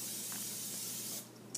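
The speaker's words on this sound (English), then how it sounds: "I'm going to spray a bowl." A short, steady burst of cooking spray hisses into a bowl for about a second, loud and close, then trails off into a faint tail with a small click at the end.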